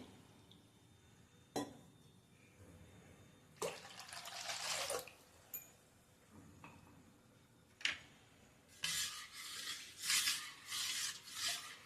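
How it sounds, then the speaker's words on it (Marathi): Water is poured into a glass of wood apple sherbet in several short splashing bursts separated by quiet gaps, close and soft, with a longer run of pouring near the end and no voices. "आता यामध्ये मी अजून एखादा ग्लास पाणी घालते"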